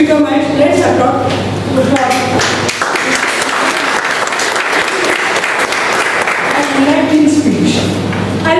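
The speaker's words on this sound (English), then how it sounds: "Let's applaud." Sustained applause from a Toastmasters club audience at a meeting in Bombay, a dense steady wash of many hands clapping for several seconds, with faint voices mixed in at the start and end.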